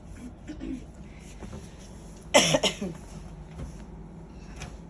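A person coughs in one loud cluster of a few harsh hacks partway through, amid faint talk and background noise in a shop selling dress materials.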